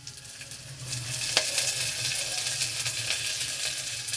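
Tempering sizzles in a frying pan for a ridge gourd palya, a steady, close hiss and crackle that swells slightly as it goes on, with no talking.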